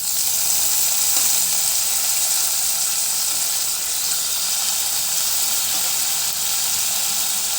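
Potatoes frying in hot oil with ginger-garlic paste, giving a steady, loud, even sizzle and hiss that holds without pause throughout.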